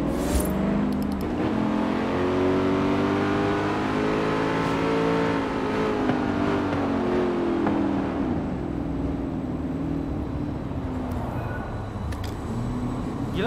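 Corvette ZR1 engine in the racing game Forza Horizon 4, played with a Logitech G29 wheel, revving and accelerating loudly through rising and falling gear sweeps, continuous and close.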